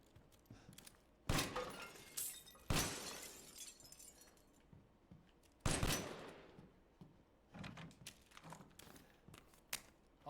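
Window glass shattering in Resident Evil Village, several loud separate crashes with ringing shards spilling afterward, alongside smaller thuds and tinkles, no voices.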